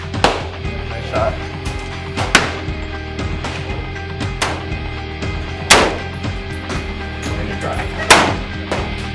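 Rifle shots ring out at a shooting range, four or five sharp cracks spaced a couple of seconds apart over a steady low rumble, with a brief spoken remark between shots.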